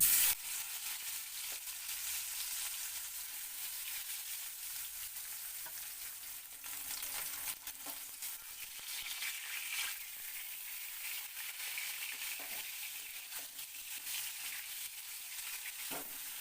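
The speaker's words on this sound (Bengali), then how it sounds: "সেটাকে আমি এক এক করে এই পিসগুলোকে এখানে ভেজে নিচ্ছি" Fish pieces marinated in salt and turmeric fry in hot oil, a continuous bright, even sizzle that stays fairly soft and close throughout, with a few faint clinks and no voices.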